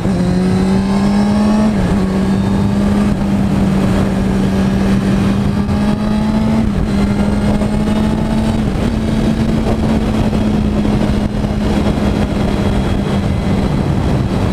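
A car engine drones loud and close at a steady high pitch, with short dips and rises as it revs and shifts, holding up for about fifteen seconds on a road with no voices.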